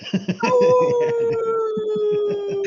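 A voice imitates a wolf howl, holding one long sliding wail that starts high and slowly falls, loud and close. Other voices and laughter chatter underneath at the start and throughout.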